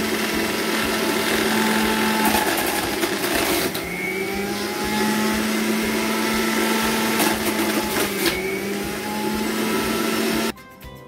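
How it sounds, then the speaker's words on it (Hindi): A mixer juicer grinds chopped vegetables and fruit for juice, its motor whirring loudly and steadily, shifting pitch as the load changes before it stops abruptly near the end. "मिक्सर जूसर की सहायता से इसका जूस बनाऊंगी"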